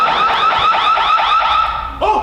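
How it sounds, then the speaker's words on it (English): An alarm goes off during a comedy club show, a loud warbling car-alarm-style siren cycling rapidly for about two seconds before a voice cuts in. "Oh, you know what that alarm means?"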